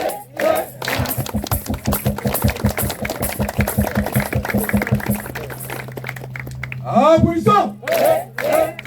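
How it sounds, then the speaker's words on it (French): Rhythmic clapping in unison from an audience at a Thursday evening gathering, a fast steady beat lasting several seconds, with voices and chanting around it. "Applaudissons!"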